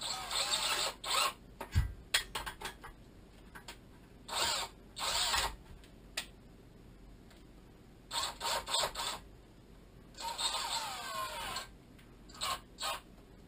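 Cordless drill fitted with an ice auger adaptor, run at its slowest high-torque speed in short separate bursts of whirring motor with quiet gaps between, close by and with no talking.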